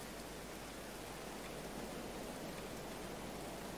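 Rain falling in the video game Going Medieval, a steady, even hiss of dense rainfall that holds constant throughout with no other sounds.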